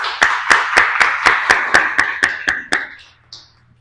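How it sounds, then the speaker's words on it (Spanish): Steady, evenly spaced claps ring out about three per second at a talk in a brewery, roughly ten in a row, then stop, leaving a faint hiss and low hum. "Un aplauso, por favor, Luis."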